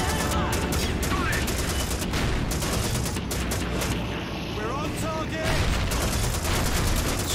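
Dense, continuous gunfire and explosions from the WWII shooter game Call of Duty 2, steady and loud throughout with bursts of machine-gun fire and booms layered together.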